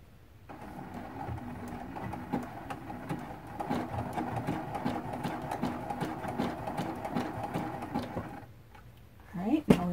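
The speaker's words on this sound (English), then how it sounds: "I will take a few back stitches just to lock these stitches right into place." A sewing machine runs steadily for several seconds while stitching a quilt border, with a rapid rhythmic clatter up close that stops near the end, followed by brief handling noise.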